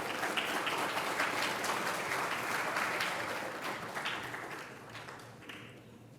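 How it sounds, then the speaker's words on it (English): Sustained, dense audience applause at the World Space Week 2024 inauguration at U R Rao Satellite Centre, welcoming a speaker; steady and fairly loud for about six seconds, easing slightly toward the end, with no talking over it. "with a round of applause"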